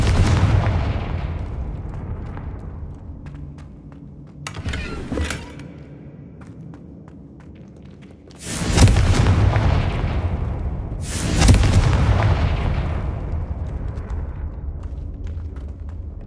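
Confringo spell blasts in the Hogwarts Legacy video game: three loud booming explosions, one a few seconds in and two more close together later, over a low steady game ambience with no talk.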